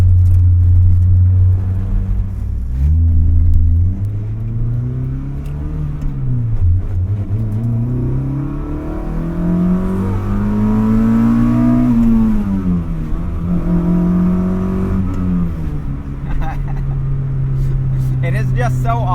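A Mazda Miata with a swapped Honda K24 engine revs and pulls hard through the gears, pitch climbing and dropping steadily, loud and close, with a voice talking over it.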